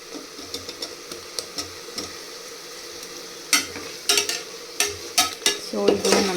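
A green paste with turmeric sizzles and fries in a pan for chicken biryani, with a soft continuous hiss under repeated scraping strokes of a spoon that grow louder and quicker toward the end.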